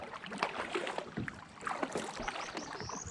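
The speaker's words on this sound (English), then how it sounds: "So I'm gonna paddle down that just a little bit, just to get a quick look." Kayak paddling on Big Cypress Bayou at Caddo Lake, Texas: soft, irregular splashes and drips of a paddle dipping into calm water, close to the microphone, with light breezy background and no talking.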